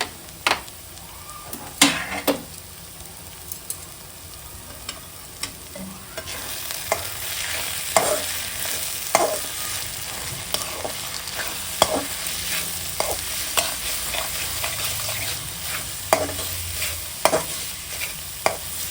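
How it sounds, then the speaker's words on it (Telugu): Spice masala of salt, red chilli powder, garam masala and turmeric frying in oil, with a steady close sizzle broken by repeated scraping strokes of a spoon against the pan, no voices. "ఒక 1 మినిట్ పాటు ఫ్రై అవనిద్దామండి"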